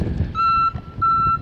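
A truck's reversing alarm sounds two long, steady high-pitched beeps, separated by a short gap, over low engine rumble.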